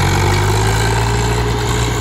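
A tractor engine, a Swaraj 744 XT or Mahindra 575 XP Plus, drones loud and steady as it reverses a trolley, a continuous low idle-like rumble at close range.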